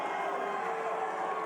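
An indoor crowd at the 2023 Rogue Invitational max rep log lift cheers a strongman lifting a 360-pound log, making a dense, continuous roar that stays loud and steady throughout.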